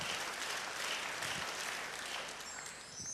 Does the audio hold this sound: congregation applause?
yes